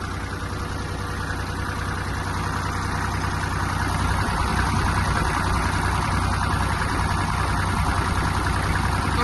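A Kubota GL-23 Japanese mini tractor sitting warmed up at idle, its small engine giving a steady, close, low chugging drone with no change in pace.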